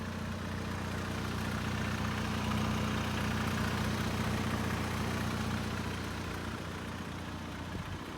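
A VW MK7 GTI with a stage 2 clutch idles with the air conditioning running, giving a steady low engine hum heard from close by, with any clutch chatter only faint beneath it.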